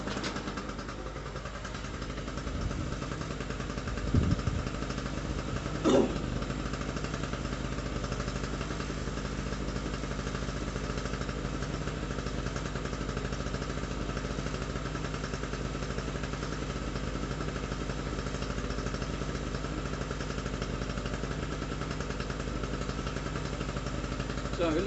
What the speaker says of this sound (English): So it looks like we're back in business with our little generator there.